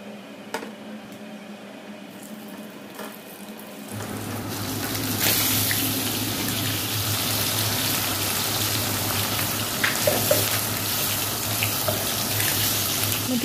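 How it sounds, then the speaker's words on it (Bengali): An egg fries in a pan in a home kitchen during heavy rain, a steady broadband sizzle that grows louder partway through and continues alone without talk. "তো এই তো ডিমটাকে আমি ভেজে নিচ্ছি।"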